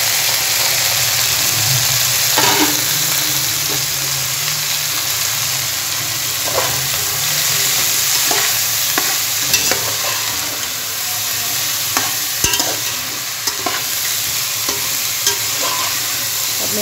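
Cabbage, cauliflower, peas and carrots fry in oil with onions, giving a steady close sizzle broken by scattered scraping stirs across the whole stretch, with no talk.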